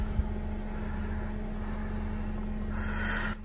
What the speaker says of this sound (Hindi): फिर से फैन का नॉइज चालू हो गया